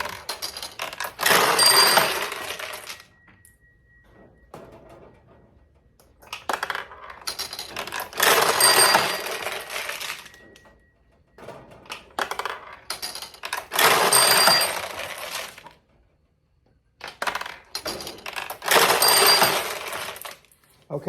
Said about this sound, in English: I'll drop some more balls through the machine